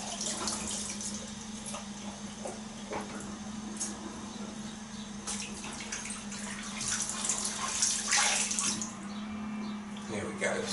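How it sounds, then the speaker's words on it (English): Tap water runs steadily into a bathroom sink at a wet shave with a Phoenix & Beau razor, a continuous close splashing stream lasting throughout with faint handling noises, growing slightly louder near the end. "I'll run a little water here."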